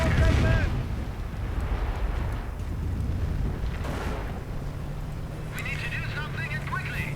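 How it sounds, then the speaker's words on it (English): A Calliope rocket artillery barrage in a video game lands as several heavy, booming blasts spaced a second or two apart, heard under a commentator's steady talk. "the Calliope unleashes a barrage, perhaps hoping to catch the Bergtiger"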